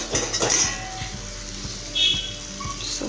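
Tomatoes and green chillies frying in a pan for chutney: a continuous close sizzle with repeated metallic scrapes and clinks of a spatula stirring against the pan, with no talk.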